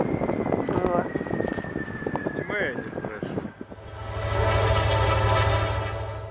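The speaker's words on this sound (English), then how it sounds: "an NS locomotive erupted in flames while passing through Richland, Washington" NS locomotive passing through Richland, Washington after a traction motor malfunction and seized bearing, a loud steady rail rumble and roar that swells in the second half, preceded by people talking and a horn-like tone.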